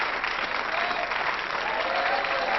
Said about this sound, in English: give him an extra special round of applause